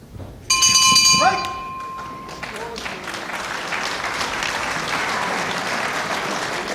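A wrestling bell rings once at the end of a round, a bright, sustained metallic clang lasting about two seconds, followed by loud crowd applause and cheering that carries on to the end.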